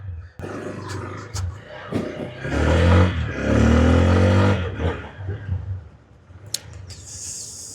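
GPX Raptor RZ200 motorcycle engine revving up close, several throttle blips climbing to a loud sustained rev near the middle before falling back to idle, with short clicks and a brief high whine near the end.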